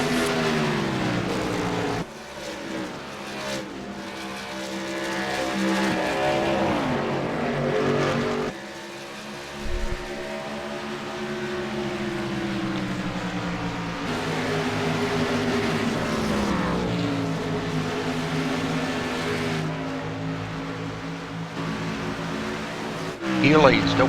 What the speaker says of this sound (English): I can hear him get off the gas and get back on the gas